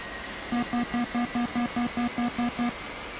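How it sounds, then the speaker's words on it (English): Cockpit aircraft engine spool-up in the DCS World flight simulator, a run of eleven evenly spaced, steady tonal pulses over a faint background hum, alone with no talk. "Now our left engine is running."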